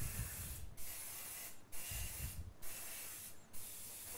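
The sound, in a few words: spraying grease from an aerosol can onto dishes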